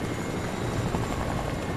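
A video game helicopter roars steadily and loudly throughout, its dense rotor and engine noise filling the scene with no talk over it.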